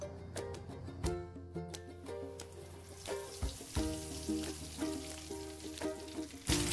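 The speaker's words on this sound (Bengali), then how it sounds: "তেল গরম হয়ে গেছে, এখন আমি ছাঁকুনির সাহায্যে চিড়েগুলোকে ভেজে নেব।" Flattened rice (chire) fries in hot oil, lowered in a metal strainer. A soft, steady sizzle is broken by repeated light taps and clinks of the strainer, and there is no talk.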